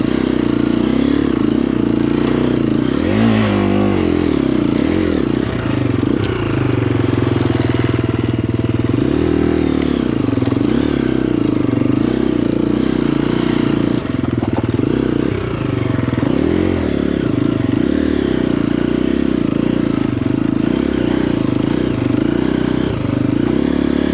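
Triumph TF250-E enduro motorcycle working on a steep hill, its engine droning continuously at close range for the whole stretch, with pitch rising and falling as the throttle changes, plus clatter and scraping from the terrain.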